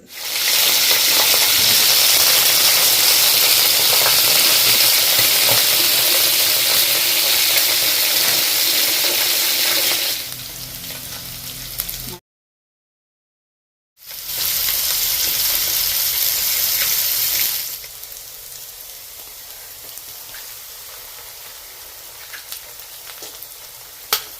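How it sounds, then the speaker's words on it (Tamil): Keeri fish frying in hot oil with green chillies and curry leaves, a loud steady sizzle that cuts out briefly, returns, then settles to a softer hiss. "எல்லாம் போட்டு ஃப்ரை பண்ண போகிறேன் கீரி மீன் பொரியல்"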